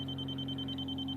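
A laser level receiver emits a continuous, steady electronic tone with a sharp high pitch over a low hum, loud and close, with no talking.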